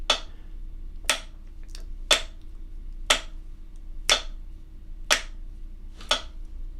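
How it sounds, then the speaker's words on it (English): Fingers snap in an even beat, seven crisp snaps spaced about a second apart, close and moderately quiet over a low hum. "I'm going to snap along."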